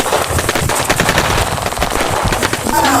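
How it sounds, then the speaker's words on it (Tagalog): Rapid automatic gunfire from a shooting video game rattles in dense, loud bursts, continuous machine-gun fire with sharp overlapping shots throughout. "grabe yung putok, pinaputukan kami"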